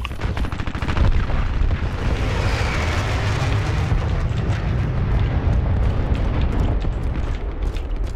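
An objective blown up in the online shooter Dirty Bomb: a loud, sustained roaring blast with crackling debris and gunfire rattling through it, dense and continuous for several seconds, with no talking.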